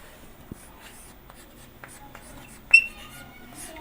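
Marker or chalk strokes on a classroom board during a Class 10 maths lesson, a few short scratchy squeaks and taps spaced irregularly, one louder squeak near the end, close and fairly quiet.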